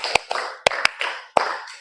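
A run of crisp hand claps from a group in a counted ice-breaker game, irregularly spaced single and paired claps, close and loud, with faint room chatter underneath.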